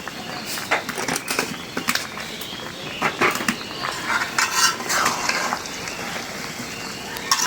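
A spoon stirs homemade mango pickle and sugar in a metal pot, with repeated scraping clinks and knocks against the sides over a soft sizzle, fairly close and busy with uneven rhythm.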